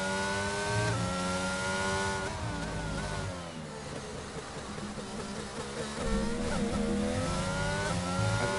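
A Formula 1 car from F1 22 runs an out lap at the Spanish Grand Prix. The engine note is loud and steady, climbing through gear changes and dropping as it shifts, with brief dips into corners before it revs up again.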